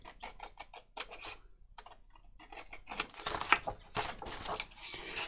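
Scissors cutting paper for a junk journal, a run of crisp close snipping and crunchy paper rustling in uneven bursts, growing busier toward the end, with no voices.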